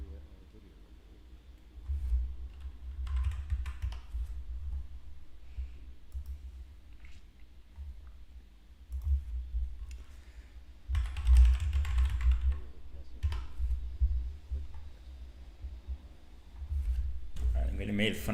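Computer keyboard typing in short bursts with clicks and taps, moderately close, heard under continuous voice-over commentary that runs through the whole stretch.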